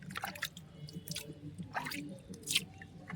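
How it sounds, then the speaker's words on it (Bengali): Water poured by hand over a bare-root rose plant, giving soft intermittent splashes and drips in a few short bursts, close and fairly quiet. "আর এইভাবে জলটা দিয়ে একটু স্নান করিয়ে দেবেন"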